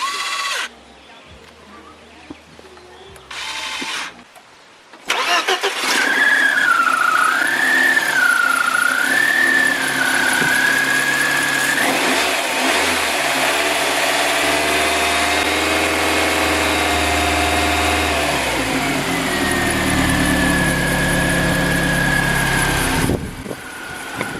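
A BMW 318Ti engine cranks and catches, then runs at a steady, loud idle for a long stretch with a faint high squeal, before the revs settle lower and it shuts off. Close by, with no talking.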